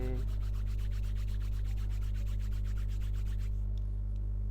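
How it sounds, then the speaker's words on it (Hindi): Palms rubbed briskly together in a quick, even back-and-forth rhythm of soft swishing strokes, close up over a loud steady low hum, during a yoga relaxation routine. "हाथों को रब करते हुए"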